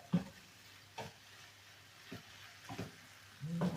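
Faint sizzling of cabbage and mushrooms stewing in a pan with a few soft stirring scrapes and clinks spaced out, low and steady, no voices.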